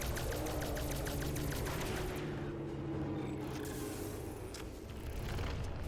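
Rapid gunfire from the Cold War Zombies video game rattles in quick repeated bursts over a loud, steady game background, with no speech.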